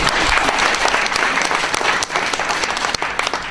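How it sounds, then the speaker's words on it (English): A conference audience at the EthnicA Conference 2011 claps for a mayor's speech, dense loud applause sustained throughout with no talk over it. "Not me, you should be clapping my wife."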